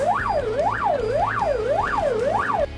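Wailing fire engine siren rising and falling in steady loud cycles, about five sweeps, with road traffic rumbling underneath as the truck heads out to a fire.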